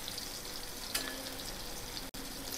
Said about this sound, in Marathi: आता दुसऱ्या बाजूने फ्राय करून घेते.